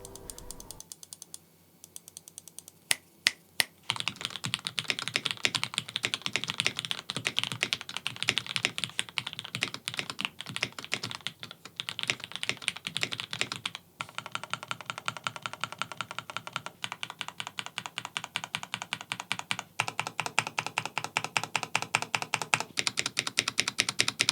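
Steady typing on a pre-built mechanical keyboard with Gateron yellow switches and solid sound dampening, a dense, fairly quiet stream of soft muted keystrokes with brief pauses, heard alone.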